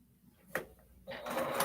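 A sewing machine running a chain stitch on a baby quilt starts up after a short mechanical click and then whirs steadily, close and fairly quiet, with no talk over it.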